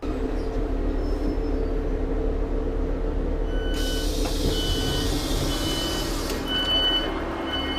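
A train on the line towards Chinley pulls into a station with a loud continuous low rumble and rolling clatter, joined partway through by a high hiss or squeal of brakes.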